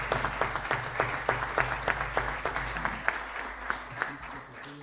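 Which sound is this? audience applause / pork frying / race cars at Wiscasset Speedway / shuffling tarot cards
audience applause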